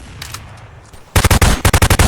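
Rapid automatic gunfire in a video game, shooting at monsters: after a quieter stretch of background game sound, a loud burst of about nine evenly spaced shots close up.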